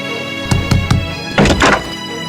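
Someone bangs on a closed room door, three quick heavy thuds followed by a pause and then a couple more dull, muffled knocks, with no voices.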